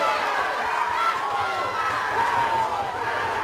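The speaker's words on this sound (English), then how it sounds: "The crowd enjoying that, making plenty of noise." A crowd at a schoolboy rugby union cup match roars and cheers steadily, a dense sustained wash of shouting voices throughout, with no single voice standing out.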